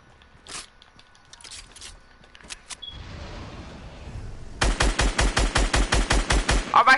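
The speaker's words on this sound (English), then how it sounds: "Why did I just shoot my pump?" Gunfire in the Fortnite video game: a few scattered shots, then a rapid burst of loud evenly spaced shots near the close.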